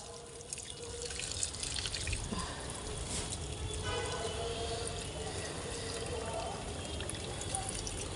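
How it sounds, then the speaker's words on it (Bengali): Garden plants watered from a hose pipe, a continuous close spray and trickle of water with faint dripping, steady and moderately quiet, with no voices. "জল দেবো এখন গাছগুলোতে, সব পাইপ দিয়ে জল দিলে না খুব সুবিধা হয়"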